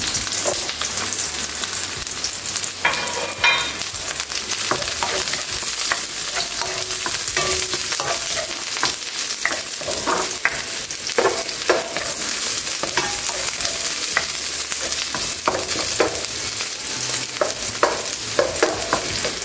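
Garlic and red onion sautéing in a pan, a dense close crackle of hot oil running throughout with frequent quick spatula scrapes and stirs layered over it.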